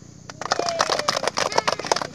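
A group of Indonesian children in Papua clap their hands together right after singing the national anthem, a dense, uneven patter of many small hands ringing out close by for a couple of seconds, with no talking over it.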